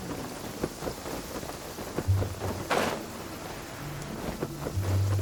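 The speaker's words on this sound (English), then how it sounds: "It's raining again? This isn't good." Steady rain pours in Genshin Impact, a video game, a dense hiss of drops with a low rumble of thunder rolling in partway through, alongside faint game sounds.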